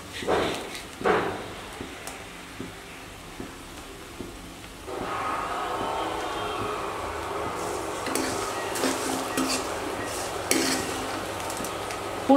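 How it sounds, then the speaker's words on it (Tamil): A few utensil clinks against a pan, then garlic hits hot oil and sizzles in a steady, close hiss, with occasional stirring scrapes, while cooking fish curry. "இந்த சமயத்தில் பூண்டை போட்டு நம்ம வதக்க போகிறோம்."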